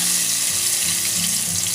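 Kangkong knots fry in hot oil with a steady, loud, close crackling sizzle that continues without pause and has no voices over it.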